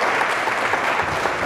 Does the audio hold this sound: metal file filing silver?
no